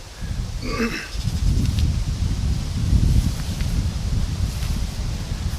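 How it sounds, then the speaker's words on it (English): Steady wind buffeting the microphone with a low rumble and rustling, continuous throughout; a few faint higher chirps near the start. "Sorry about the wind kicking up here. It is a little bit windy today."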